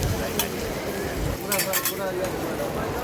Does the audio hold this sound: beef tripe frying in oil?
yes